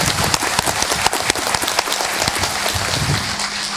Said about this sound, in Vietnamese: Xin các quý vị, các đại biểu một tràng pháo tay.